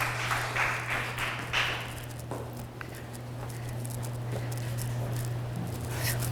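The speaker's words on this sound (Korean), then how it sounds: "박수." A congregation claps together at a Friday church healing service, a broad patter of applause under a low steady hum that fades to a softer wash.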